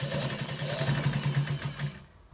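A sewing machine stitches lace into a trouser waistband, its needle driving in a fast, steady, close-up rhythm for about two seconds before it stops.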